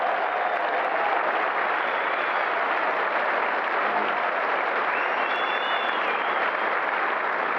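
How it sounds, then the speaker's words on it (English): Cricket crowd at a 1992 World Cup match between Pakistan and England applauding a fielding play, a dense, steady wash of clapping from a large stadium audience that holds evenly throughout without anyone speaking. "A very appreciative crowd."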